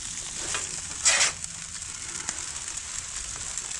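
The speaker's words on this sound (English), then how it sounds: "Time for a little more sauce on these noodles, guys. We're going to stir this up." Ramen noodle stir fry sizzles on a Blackstone griddle in a steady nearby hiss, with a sharp flare of sizzle as sauce hits the hot surface, plus light scraping and tapping.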